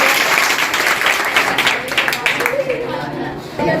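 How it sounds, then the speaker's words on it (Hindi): Loud applause for a school director at a school GK competition event, a crowd clapping hard and steadily throughout, dense and close, with slight swells in intensity. "तो इनके लिए जोरदार तालियां बजा दीजिए।"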